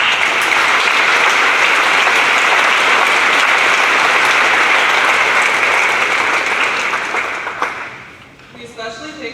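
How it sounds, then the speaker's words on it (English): An audience at a school academic awards presentation gives sustained, loud applause for the student council members, holding steady for several seconds before tapering off near the end as a voice begins. "Let's give them a round of applause for all they do."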